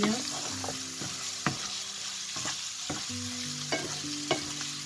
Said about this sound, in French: j'ai bien mélangé la viande aux oignons